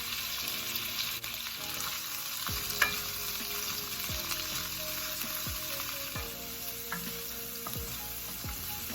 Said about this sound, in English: I'm gonna let this heat up and stir fry my shrimp.